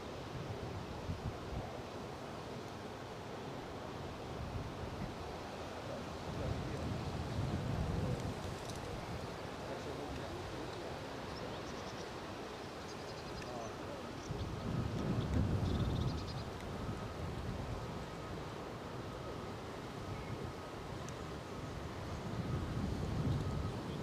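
Wind blowing at Edinburgh Airport, a constant rumbling buffet across the microphone with stronger gusts swelling every few seconds.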